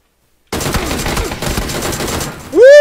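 A new weapon firing in the battle royale video game PUBG: a loud, sustained burst of rapid gunfire that stops abruptly, followed by a rising whining tone.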